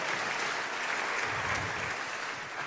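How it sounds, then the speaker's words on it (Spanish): A church congregation claps together during a worship service, a moderately quiet, steady patter of many hands that holds even throughout with no talking. "Dele otro fuerte aplauso al Señor."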